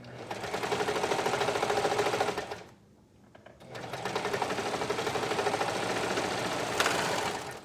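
A sewing machine runs in two steady bursts of rapid, rhythmic stitching through fabric, close and loud, broken by a brief pause of near silence.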